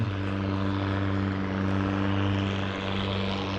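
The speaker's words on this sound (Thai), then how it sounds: "ได้ยินเสียงเรือก็อุ่นใจหน่อยนะฮะ" A motor boat engine on the Salween River at Ban Sop Moei, Mae Hong Son, Thailand, drones steadily and loudly throughout, a deep continuous hum with a rough, buzzing texture and no pauses.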